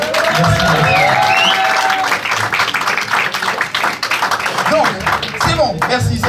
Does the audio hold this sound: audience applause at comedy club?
yes